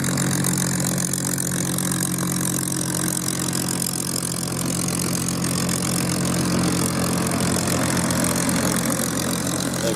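A Catalina aircraft engine runs steadily at an air show, a continuous loud droning hum with a low rumbling tone and no pauses.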